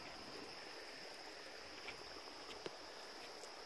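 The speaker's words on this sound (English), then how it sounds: "I could stand here all day and just listen to the creek." Steady broadband wash of a flowing creek, a good rock bass fishing spot near a swimming beach, continuous and fairly faint, with a few small ticks and splashes and no talking.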